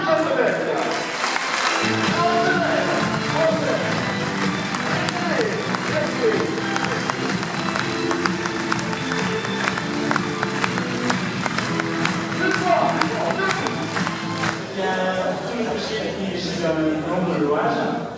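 Crowd applause and cheering at a cycling prize ceremony for the Routes de l'Oise 2014, loud and sustained, with voices and a live announcer heard through the clapping.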